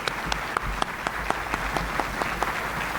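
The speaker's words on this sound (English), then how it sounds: "let's all give Kate a big round of applause" At a Chamber of Commerce monthly luncheon, the audience applauds a children's hospital champion with steady, even clapping, several distinct sharp claps standing out close by over the wash of the crowd.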